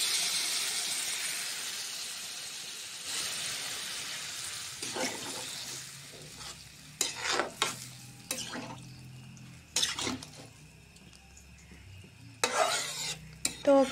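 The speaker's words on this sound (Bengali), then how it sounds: "তো চলো প্রথমে জলগুলা দিয়ে দিই।" Water goes into a hot pan of fish curry with eggplant and potato, a soft hiss fading over several seconds, then a run of sharp spoon scrapes and clinks against the pan, close and uneven, with no voices.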